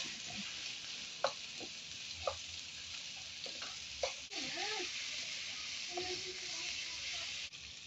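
Garlic and onion frying in a pan while being stirred, a quiet steady sizzle with occasional scrapes and clinks of the utensil against the pan.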